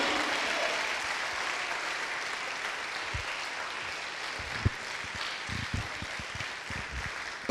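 A church congregation applauding for Jesus during a French-language sermon, a sustained roomful of clapping with scattered louder individual claps, steady throughout.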